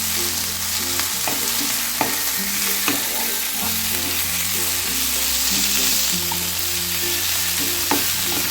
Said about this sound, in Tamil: தக்காளி கொஞ்சம் நல்லா வதங்கிட்டோம்